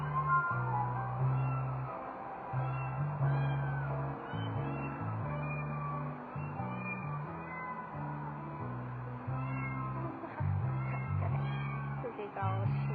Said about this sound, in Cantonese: 佢哋嘅音樂都係貓叫嘅喎